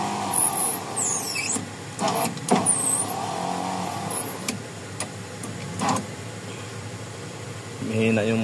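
A Honda FD (K30 engine) power window motor raising the glass, heard as several short whirring bursts with ticks and clicks between them, close by and fairly loud.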